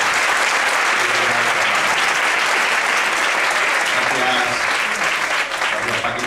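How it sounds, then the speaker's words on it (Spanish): Sustained, dense applause from an audience at a cultural event in Fuenlabrada, Spain, clapping continuously at full volume for several seconds. "es la presidenta del MPDN, Paquita Saltillo, a la cual pido un gran aplauso por su presencia."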